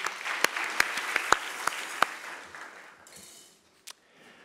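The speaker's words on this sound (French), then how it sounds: "On peut l'applaudir." Applause greets a candidate at a short thesis-presentation contest, with a few sharp, close individual claps standing out over the crowd before the clapping fades away within about three seconds, followed by one last isolated clap.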